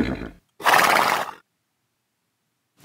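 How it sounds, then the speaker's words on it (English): Horse neighing in a children's farm song, one loud whinny of about a second standing alone between short silences, with a brief sound just before it. "Oh, you pesky horse."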